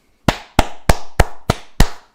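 Six crisp hand claps close to the listener, evenly paced at roughly three per second, each snapping and fading quickly, with no voices.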